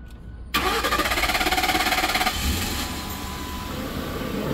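A 2010 Ford Crown Victoria Police Interceptor engine cranks briefly, catches, then settles into a steady, close idle with a fast rhythmic rumble.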